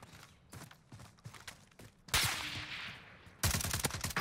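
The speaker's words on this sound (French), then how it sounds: "Ça me tire au sud d'ailleurs." Gunfire in Call of Duty Warzone: quick clusters of sharp shots patter through the first two seconds, then louder, denser bursts crash in, with a rapid barrage near the end.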